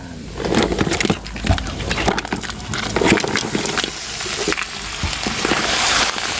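Crab frying in a pan with garlic, a steady crackling sizzle with frequent sharp pops and spatters, close and continuous throughout, with occasional clinks of utensils.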